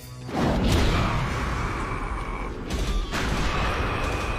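An explosive punch impact in a Kengan Ashura fight scene, a loud booming blast that swells into a rumbling roar with a second surge partway through, dense and sustained.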